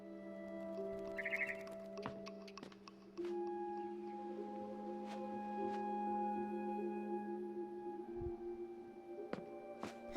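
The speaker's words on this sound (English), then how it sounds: "Then I heard chirping outside my window. It was a barn swallow going back to her nest." Chirping of a barn swallow in the video game What Remains of Edith Finch, a brief high twittering burst near the start set over sustained tonal music and soft clicks.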